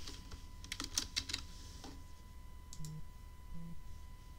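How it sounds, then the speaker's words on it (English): Clicky bursts of typing on a computer keyboard, a quick flurry of keystrokes followed by a few sparse taps, close and fairly quiet. "sorry to put you through the torture of my typing on that"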